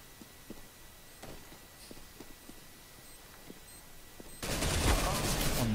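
Gunfire from the video game Counter-Strike: Global Offensive: scattered faint shots and clicks tick along quietly before a sudden loud burst of rapid fire takes over near the end.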